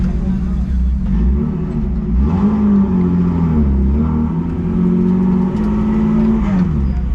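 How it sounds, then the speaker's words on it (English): A front-wheel-drive car engine revving during a track test session, a loud steady drone with pitch swelling and dipping through repeated revs, close and continuous. "Been a while since I drove a front wheel drive car"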